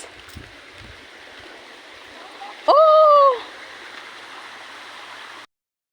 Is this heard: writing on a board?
no